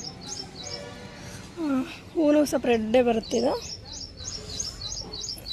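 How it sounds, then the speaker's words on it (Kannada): Birds in a home garden give repeated high chirps, moderately near, heard through and between the bursts of a person talking about the flowers. "ಆ ಪಕ್ಷಿ ಎಷ್ಟು ಶಬ್ದ ಮಾಡ್ತಾವೆ ನೋಡ್ರಿ."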